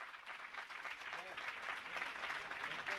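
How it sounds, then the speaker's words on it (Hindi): An audience clapping at a Jain temple honouring ceremony, with sustained steady applause carrying on while someone speaks over it. "तालियां बजती रहनी चाहिए।"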